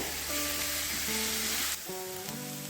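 Green chillies hitting hot oil in a pan while making masala tomato gojju, a steady loud sizzle and crackle that runs throughout with no talking.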